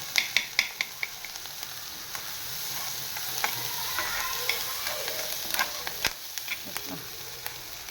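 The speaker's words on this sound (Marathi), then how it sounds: "हे स्टर फ्राय करून घ्यायचं फक्त पटापट" Paneer cubes stir-fried in butter: a constant sizzle punctuated by quick, repeated spatula scrapes and taps against the pan, close and moderately loud.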